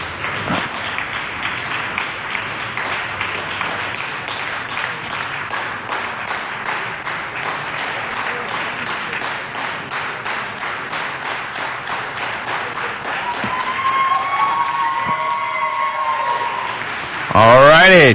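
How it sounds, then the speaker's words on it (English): Sustained, rousing applause fills a city council chamber after a contract vote, dense steady clapping throughout, with a voice briefly rising over it near the end. "And that rousing applause for a hard-fought contract."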